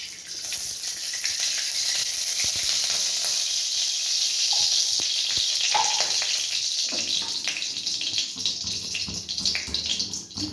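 A spoonful of ghee sizzles in a kadai with a steady, close hiss and a few small pops before semiya payesh is made. No one speaks.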